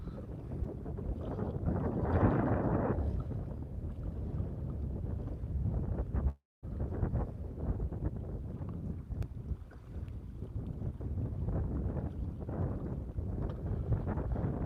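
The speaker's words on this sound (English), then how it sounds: "And the wind just kicked up something fierce." Strong wind blows across an open lake during a fishing outing, roaring steadily and buffeting the microphone for the whole stretch, with one brief dropout.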